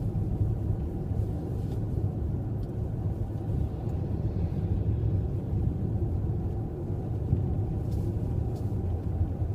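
Interior of a 2014 Jeep Cherokee 4x4 driving on a snowy winter road, a continuous low engine and road rumble that holds steady throughout with no talking.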